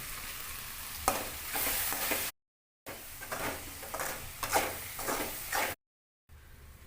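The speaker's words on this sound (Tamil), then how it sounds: "இப்போ வெங்காயம் தக்காளி நல்லா வதங்கிருச்சு." Onions and tomatoes sautéing in a pan for traditional chicken gravy, a moderate crackling sizzle broken by stirring scrapes and short silent gaps.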